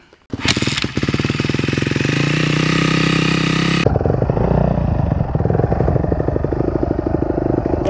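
A dirt bike engine on a trail ride starts up with a loud sharp pop, then drones in a close, buzzing steady idle before shifting to rougher, choppy revving as it pulls away.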